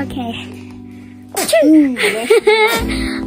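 A sharp sneeze bursts out near the microphone, followed by brief voices and a short spoken word, after a quiet background hum.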